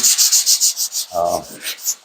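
Rhythmic rubbing strokes of sandpaper scuffing the surface around a patch of 2K primer, about eight quick back-and-forth passes close up, with a brief lower scrape midway and no talking.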